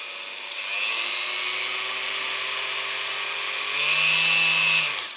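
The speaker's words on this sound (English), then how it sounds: "So Dremel's actually on now." A Dremel rotary tool spins small soft polishing pads with nothing on them, a thin high whine that holds steady, then rises in pitch and loudness briefly near the end before cutting off.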